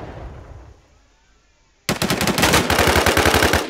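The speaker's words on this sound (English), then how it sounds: "Where's the guy at shooting you? Shooting me from behind somewhere" Rapid automatic gunfire in the survival shooter game Infestation: Survivor Stories bursts in loudly after a quiet stretch, a steady stream of close shots.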